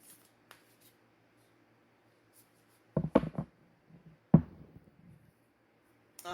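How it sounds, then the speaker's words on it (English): Tarot cards are shuffled during a reading in a quiet room: two brief, close riffling flurries a moment apart, with faint taps before and after. "we're going to pull a few more cards"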